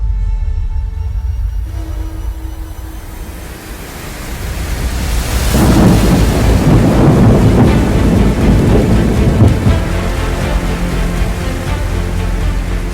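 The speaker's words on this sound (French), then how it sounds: "Nous nous attendions bien à quelques gouttes, mais pas à ce déluge." A heavy downpour hits cyclists on a bike tour around the Kaiserstuhl, a loud broadband wash of rain that swells sharply about halfway through and stays intense to the end.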